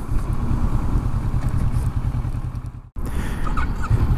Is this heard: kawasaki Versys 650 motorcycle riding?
yes